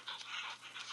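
A dog panting in the video game Into The Dead, heard as a short burst of quick, breathy pants, close and quiet with no voices.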